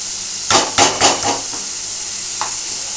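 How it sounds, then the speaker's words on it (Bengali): Pumpkin halwa being stirred in a frying pan, a steady hiss of sizzling with a few scraping strokes of the spoon in quick succession, then a lone stir after a pause, close and without talk. "এটা কিন্তু ভালো করে নাড়বো।"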